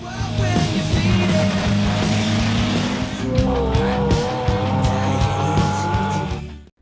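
A yellow Ferrari F355 GTS races in a street contest, its engine screaming loudly and continuously with tire squeals and skids, close and intense, before cutting off abruptly at the end.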